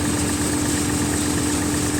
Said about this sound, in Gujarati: 1000 RPM પર ટ્રેક્ટર ચાલે છે